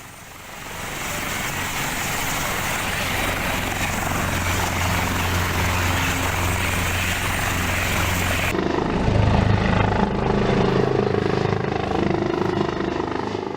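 Two helicopters escorting a body evacuation in Mimika, Papua, produce a loud, steady rotor and engine drone throughout, shifting in tone partway as one passes closer, with no talk.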